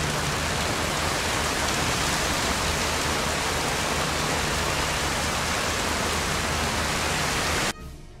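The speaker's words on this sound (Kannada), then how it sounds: "ರಾಜ್ಯದ ಕರಾವಳಿಯಲ್ಲೂ ಮಳೆ ಆರ್ಭಟಿಸುತ್ತಿದೆ" Heavy rain from Cyclone Fengal pours on the coast of Udupi and Dakshina Kannada, a dense, unbroken roar of falling water that cuts off abruptly near the end.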